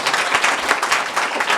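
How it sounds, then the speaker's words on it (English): Audience at a panel session clapping for the chairs and panelists: a short, dense round of applause from a sizable crowd, steady and moderately loud, with no speech. "We better give these people a quick clap for their contributions."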